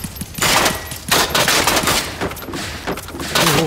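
Machine gun fire rattles in Generation Zero as rapid, loud, close bursts that repeat with short gaps between them.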